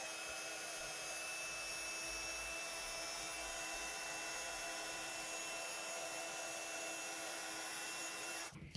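A heat tool blows steadily for several seconds to melt Superfine polished silver embossing powder from WOW on a card, giving a constant close whooshing hum that cuts off at the end.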